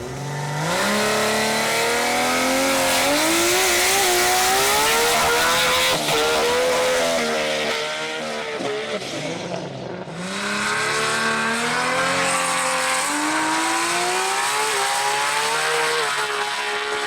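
A Nissan GT-R race car accelerates hard on a damp track at a GT-R drag event, its engine note climbing through gears in a loud, continuous roar with a brief shift dip partway through.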